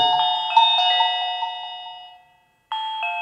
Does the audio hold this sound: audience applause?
no